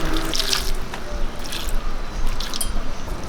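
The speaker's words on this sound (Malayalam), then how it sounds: "ഇനി ശകലം വെള്ളം ഒഴിച്ചു കൊടുക്കാം" Water sloshes and splashes into a pan of snake gourd and dried shrimp in a short, close pour, with a few wet squishing sounds and no voices.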